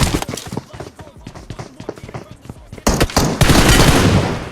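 Rapid gunfire from a weapon in the PUBG Mobile video game, a fast rhythmic string of sharp shots that swells louder and denser toward the end, with voices talking beneath.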